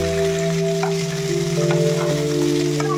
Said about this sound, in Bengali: এখন আমি আলুগুলো নাড়ব।